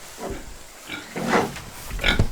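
Pigs on a farm give several short grunting oinks in bursts, close by and moderately loud, with a louder squealing grunt near the end.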